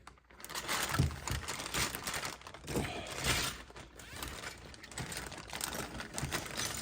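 Soft, irregular crinkling and rustling of a plastic bag being handled close up, quiet and continuous.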